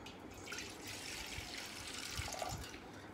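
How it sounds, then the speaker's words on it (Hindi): Water running into a vessel, a soft continuous trickle and splash with faint dripping accents, close by and quiet with no voices. "इस तरह का बर्तन लेना है आपने और इसमें थोड़ा सा आपको पानी डालना है।"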